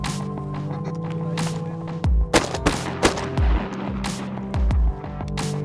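Several loud, sharp shotgun blasts ring out one after another during duck shooting at dusk over a still pond, the booms spaced irregularly with short echoing tails against a quiet outdoor background.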